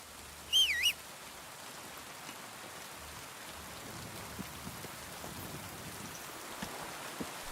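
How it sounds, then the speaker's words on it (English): Rain in the video game Kingdom Come Deliverance 2, a soft, steady patter of raindrops on surfaces with a faint hiss, a brief chirping bird call near the start, quiet and unbroken. "I hate the rain in this game so much."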